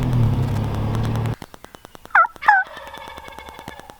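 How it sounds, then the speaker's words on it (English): Two loud gobbles from a wild turkey in spring ring out in quick succession over a quiet outdoor background near a field and wood line, after a stretch of passing engine rumble. "Love me some thunder chickens in the spring."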